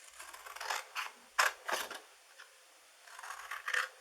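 Scissors snipping the corners off a scored sheet of paper for a handmade gift box, a few short, crisp cuts and rustles close up in a quiet room.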